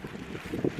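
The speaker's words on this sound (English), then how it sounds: "This wind has got a real bite to it." Strong wind buffets the microphone on an exposed, rainy hilltop along a long-distance walking trail, a steady low rumbling gust with no talking.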